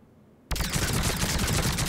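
Indra sniper rifle in Mass Effect 3 bursting into rapid automatic fire after a brief quiet, a dense loud stream of close shots that keeps going to the end.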